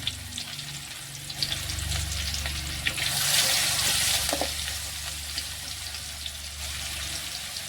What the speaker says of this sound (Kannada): ಸಾಸಿವೆ ಜೀರಿಗೆನೂ ಕೂಡ ಚಟಪಟ ಅಂತ ಸಿಡಿಯಾಕತ್ತವ